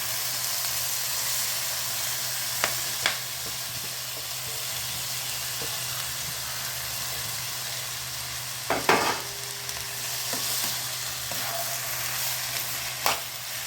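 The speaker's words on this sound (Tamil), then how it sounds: "கட் பண்ணி வச்சுருக்க வாழைத்தண்டு போட்டுக்கலாம்." Chopped banana stem fries in a pan with green and dried red chillies and asafoetida, giving a steady, even sizzle and hiss broken by a few sharp clicks of stirring.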